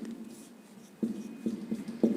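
A pen writing on paper while a government letter is drafted, giving soft scratchy strokes and several small taps that get a little louder toward the end, with no talk over them.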